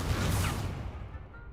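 A burst of fire erupts from an Incendio spell cast in Hogwarts Legacy, a loud broad whooshing blast that quickly fades away over about a second.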